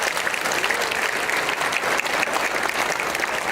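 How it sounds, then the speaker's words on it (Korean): A church congregation claps steadily and loudly, a dense, even applause that carries on throughout, welcoming a pastor to the pulpit. "큰 박수로 우리 환영하겠습니다."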